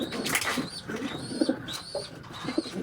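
A racing pigeon held in the hand gives soft, low, repeated coos over a close, busy background, with faint chirps from other birds higher up.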